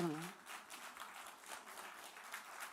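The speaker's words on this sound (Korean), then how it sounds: "여 삼강교회 성도들만 우리 전사님 박수 한번 쳐주세요." A church congregation at a summer revival gathering claps together, a fairly faint, steady patter of hands after a voice at the start, with no other talk over it.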